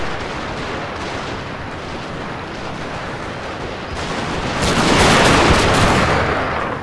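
Dense, continuous massed gatling gun fire from about eighty guns in the strategy game Total War: Shogun 2, a steady roaring clatter that swells louder and brighter in the final seconds with no talk over it.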